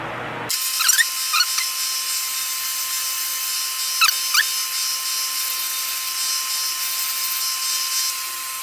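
A sharpening machine with a spinning stone for carbide cutters switches on and settles into a steady high whine, with a few brief scraping squeals of contact.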